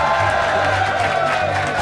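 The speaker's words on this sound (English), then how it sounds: "give me a cheer if you think Shalaka won" A roast battle audience cheering, a dense, loud crowd roar of shouts and whoops sustained without a break for a couple of seconds.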